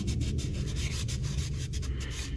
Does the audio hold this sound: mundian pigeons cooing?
no